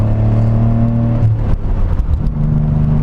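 A lowered Nissan 300ZX engine pulls hard in first gear with a loud, raspy drone that climbs, then dips briefly as the revs change before building again.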